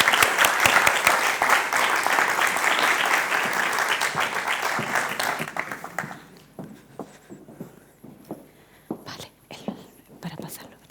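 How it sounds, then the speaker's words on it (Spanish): Audience applause at a symposium on the Forastera grape, a dense, loud burst of clapping for about six seconds that thins into a few scattered claps and fades. "Le damos un fuerte aplauso."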